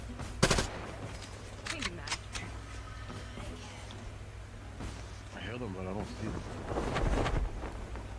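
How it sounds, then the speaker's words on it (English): Gunfire in Call of Duty Mobile on the Alcatraz map rings out as a sharp near shot followed by scattered bursts of fainter, more distant shooting, with game noise and talk mixed throughout. "I'm hearing shots fired, but I can't see."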